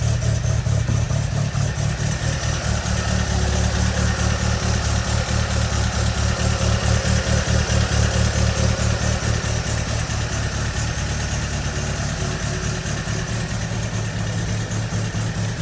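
A Volvo Amazon engine idles loudly and steadily, its leaking exhaust ticking in a rapid rhythmic chatter throughout, with no talking.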